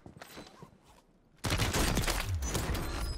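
Heavy gunfire in the Warzone video game on Rebirth Island: a quiet stretch gives way to a loud, sustained burst of rapid shots and impacts that runs continuously to the end.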